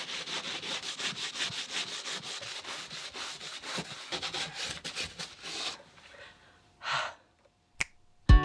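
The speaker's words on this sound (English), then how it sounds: "It's just wiping away all the grime." Grime being rubbed and wiped off a surface inside a van, a steady run of close, rhythmic scrubbing strokes that stops partway, followed by a few brief scattered knocks and rustles.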